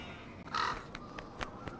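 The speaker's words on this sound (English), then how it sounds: "Wonder what that crow's doing in there." A crow caws in the garden of the Nancy Drew game The Haunting of Castle Malloy: one raspy caw, then several shorter, fainter calls spaced irregularly over quiet ambience.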